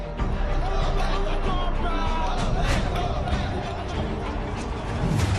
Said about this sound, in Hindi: रैलियों में हजारों की भीड़ उमड़ रही है।